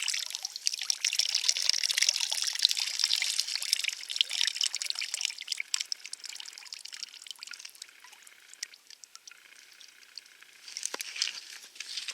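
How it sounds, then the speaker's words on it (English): Corn can juice poured into a lake at a bass fishing spot, a continuous light splashing trickle with a brighter burst near the end, fairly close and steady, no voices. "Of course, the juice goes in the lake in the hope we can attract some fish."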